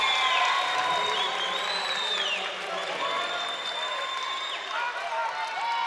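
Crowd at a women's college volleyball regional playoff match cheering after a big block at the net, with loud mixed yells, whoops and clapping filling the gym, and some voices rising above the roar.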